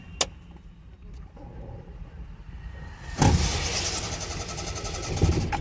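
A car push-started in second gear with a dead battery, ignition on as it rolls downhill: low rumble of the rolling car, then from about three seconds the engine catches and runs loudly and steadily.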